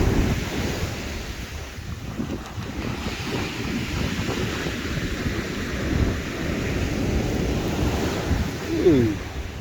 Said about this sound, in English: Waves are getting big now, some of them.